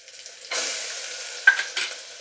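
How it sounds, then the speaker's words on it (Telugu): Ginger garlic paste frying in a pan for jeera rice: a quiet start gives way to a steady loud sizzle as the paste hits the oil, with a few brief stirring scrapes and clinks near the end. "ఇలా కొద్దిగా ఫ్రై చేసుకునేసి దీంట్లో కొద్దిగా అల్లం వెల్లుల్లి పేస్ట్ కూడా యాడ్ చేసుకుంటున్నా"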